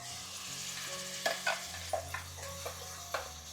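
Tomato and green chilli paste frying with onions for a dhaba-style egg gravy curry, a steady close sizzle broken by a handful of sharp stirring scrapes and clicks against the pan.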